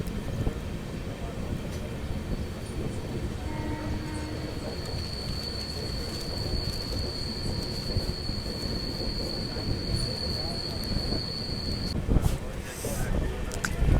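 Train 11409, from Pune to Sainagar Shirdi, rolls along the line with a steady rumble. A long, high wheel squeal rings through most of the ride, and a voice talks over the noise.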